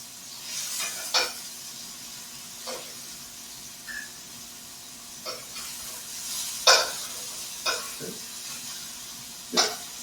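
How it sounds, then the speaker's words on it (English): Chicken meatballs searing in hot oil in a crowded pan, a steady sizzle and hiss broken by occasional sharper spatters and scraping stirs. "Make some more space on the surface of the pan so that they can hit that hot surface and sizzle in the oil."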